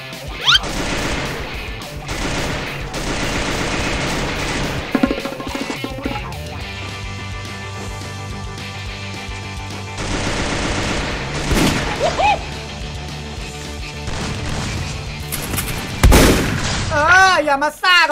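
Gunfire and crashing impacts in the video game Free Fire, with shots, bursts and booms scattered over a busy game soundtrack while players talk.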